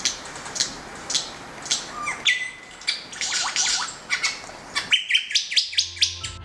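Australian lyrebird mimicking other sounds: a quick series of sharp chirps, whistles and squawks, some falling in pitch, followed by a rapid run of rhythmic high notes over a low hum.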